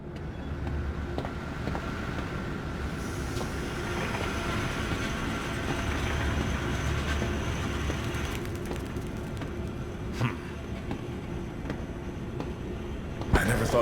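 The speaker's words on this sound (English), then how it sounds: "Now activate the lever to lower the gadget trolley." A gadget trolley in the Zoochosis video game rumbles steadily along rails, a continuous mechanical rolling drone lasting several seconds, with brief clanks and a sharper knock near the end.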